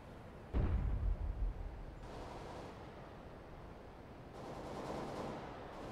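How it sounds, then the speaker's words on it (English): A flashbang grenade going off in a video game, a single muffled bang followed by a ringing, hissing wash that lingers at low level. "Flashbang."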